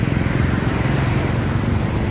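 Loud, continuous rumbling road noise as a heavy tronton cargo truck goes by close, a dense roar with no clear pauses.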